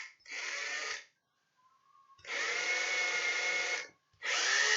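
A power drill bores a hole through a drilling template in three loud, whining bursts, each several seconds long with brief silent pauses between, close to the microphone.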